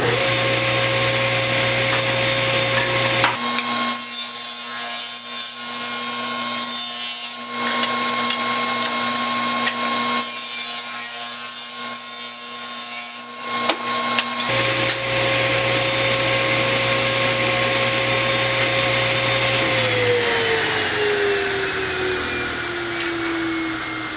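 A power saw cuts lumber stock into two 19-inch pieces, its loud steady motor whine broken by two long bursts of cutting noise before the blade spins down, with no talk.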